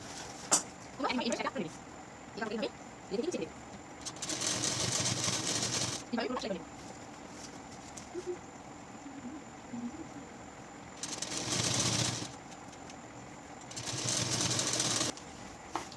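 A sewing machine stitching along the edge of a lungi's cloth in several separate runs of whirring, each a few seconds long, broken by pauses in which someone talks.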